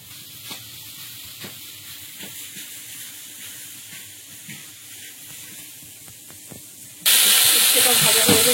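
Water is poured into a hot frying pan in a village kitchen, setting off a sudden loud, broad hiss of steam that bursts in after a quiet stretch of light clinks and background sounds.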